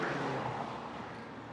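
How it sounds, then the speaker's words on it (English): A car with a noticeable exhaust rolls past at a roundabout, a steady, fairly faint engine and road rumble with no talking. "Nice exhaust, apparently."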